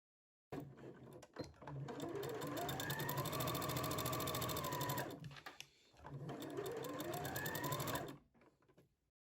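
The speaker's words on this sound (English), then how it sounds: "the two hood pieces right sides together, pin and sew around the edge" A sewing machine stitches two hoodie hood pieces together around the edge, running fast and steady in two bursts with a short pause between, close and clear.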